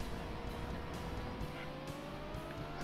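A Ferrari in the Sega Saturn game The Need for Speed drones on with a continuous engine note and rising revs, along with a hint of tire noise. The sound is steady and fairly loud, with no talk.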